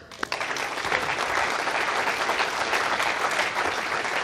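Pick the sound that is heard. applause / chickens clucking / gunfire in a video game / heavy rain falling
applause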